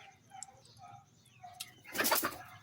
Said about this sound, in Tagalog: May lumilipad pa na manok.